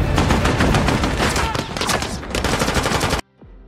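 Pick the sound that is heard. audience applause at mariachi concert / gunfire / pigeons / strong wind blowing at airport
gunfire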